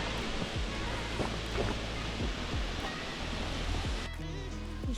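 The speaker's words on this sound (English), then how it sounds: "That's some waterfalls." Waterfalls along the Milford Track in New Zealand give a steady, loud wash of rushing water that fills the whole clip, with a few faint voices and bird calls over it.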